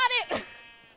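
A single sheep bleat from the Sheep Quest video game, a loud, close, wavering cry that fades out within a second.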